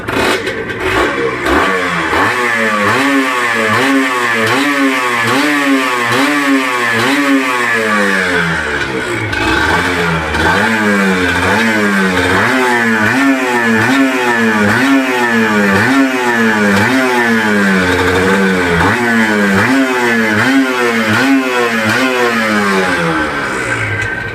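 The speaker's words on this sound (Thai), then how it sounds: "เครื่องดีฮะให้ฟังเสียงเบิ้ลนิดนึง" A Honda NSR 150 motorcycle engine revving loudly and continuously, the pitch rising and falling in repeated throttle blips with no talk.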